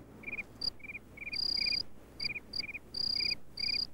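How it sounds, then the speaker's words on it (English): Crickets chirp in short repeated bursts, a high pulsing trill alternating with a higher steady ringing tone. Close and clear, with no voices. "following the sound of chirping males"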